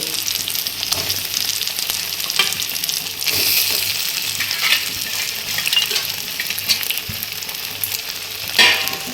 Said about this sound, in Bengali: এবার চিংড়িগুলো একটু কষিয়ে নিয়ে জল দেব